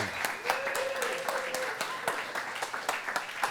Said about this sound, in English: So give him a big round of applause, please, Mr. James Nestor.